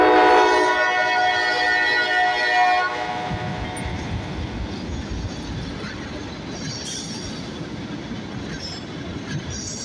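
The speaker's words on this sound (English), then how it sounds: "Got a train coming." A CSX freight train horn blares loudly for a few seconds in downtown Dayton, Ohio, then the southbound train led by an ES40DC locomotive rumbles and clatters steadily nearby, its wheels faintly squealing.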